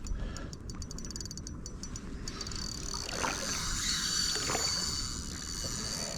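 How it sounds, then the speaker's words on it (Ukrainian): Fishing reel drag clicks in a rapid run of ticks while a catfish is fought on a light rod during perch fishing, then gives way to a steady wash of water and outdoor noise. "цей звук фрикціону"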